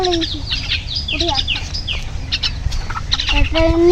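Chickens and other birds in a village, with repeated clucks and chirping calls close by, some squawky rising notes, and a person talking over them.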